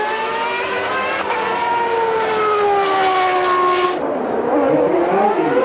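A 1994 Formula 1 car screams past on a qualifying lap, its high engine note rising through the gears and then dropping sharply as it goes by, loud and close with no voices.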